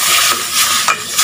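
Vegetables being sautéed with pepper and salt in a pan, giving a steady broadband sizzle with a few louder stirring scrapes, close and fairly loud, no talking.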